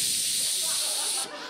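A voice imitates a stuck deodorant spray nozzle, producing a loud, steady, close hiss that holds continuously and then drops off abruptly near the end.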